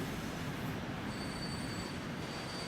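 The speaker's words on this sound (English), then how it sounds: "So it is going to pull into station." A freight train in the Transport Fever 2 game rolls into a station, its wheels squealing with faint high-pitched screeches over a steady low rumble of rail cars, loud and continuous.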